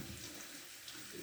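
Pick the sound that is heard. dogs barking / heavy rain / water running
water running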